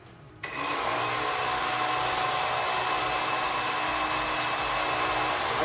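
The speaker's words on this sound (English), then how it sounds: "I'm running the shooter again, just FYI." A robot's shooter motor spins up at high RPM, near 3,600 to 3,700, with a sudden onset and then a loud, steady, sustained whine and whir that holds level to the end.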